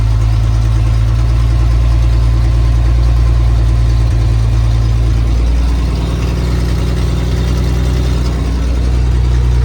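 A rusty Toyota FJ40 engaged in four-wheel drive low, its engine running with a loud steady low drone and a slight rise in pitch partway through.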